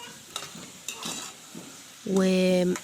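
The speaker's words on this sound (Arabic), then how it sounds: "نقلبهم بقى كده شوية مع البصلة" A spoon stirs peas with onion in a pot, giving several soft scraping strokes with faint sizzling, followed by a brief voice.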